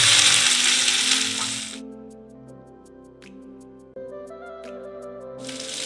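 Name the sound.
garlic, ginger, chilli, capsicum and onion frying for Manchurian gravy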